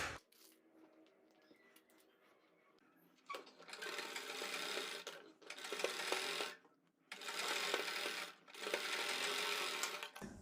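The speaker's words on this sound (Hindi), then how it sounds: "1/4 इंच का मार्जिन लेते हुए यहाँ पर सिलाई लगा लेनी है।" A sewing machine stitches a neckline seam with a quarter-inch margin on pinned fabric, running in three steady bursts of rapid whirring separated by brief pauses, after a few seconds of quiet handling; close and fairly loud, with no talking.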